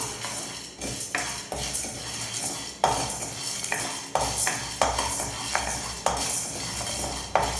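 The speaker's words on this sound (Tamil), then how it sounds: "பார்த்தீங்கன்னா வறுத்துட்டுருக்கேன்." Spices for a puliyodharai mix dry-roasting in a pan, with repeated metallic spatula scrapes and clinks against the pan over a soft crackle, close and rhythmic.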